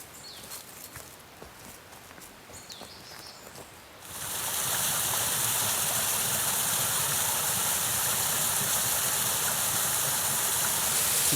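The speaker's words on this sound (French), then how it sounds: "C'est de la micro-cascade, mais c'est assez joli." A small waterfall in a forest stream in the Montagne Noire rushes as a loud, steady broadband wash starting a few seconds in, following quieter outdoor ambience with light footsteps.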